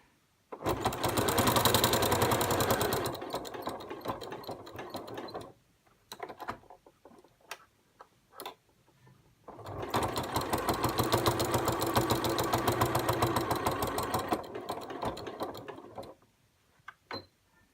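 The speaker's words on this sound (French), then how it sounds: "je continue à faire ma couture jusque là où je m'étais arrêtée au départ" A sewing machine stitching bias binding onto a quilt runs in two long, steady rattling bursts, separated by a pause filled with light clicks and handling sounds, close and clear.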